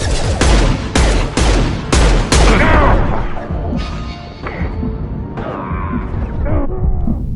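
Rapid bursts of gunfire from an assault rifle in a shooter video game, loud and close. The volleys open with sharp repeated cracks, then continue as denser, overlapping shots and impacts.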